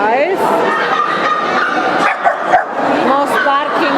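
Several dogs in a breeders' area at a dog show, barking, yipping and whimpering in overlapping rapid bursts close by, with a crowd murmuring and people talking around them.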